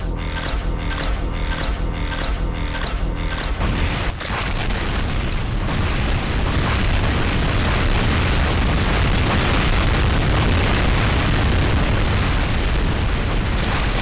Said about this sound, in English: One command block spawns a Tzar, and the other one spawns a plasma explosion.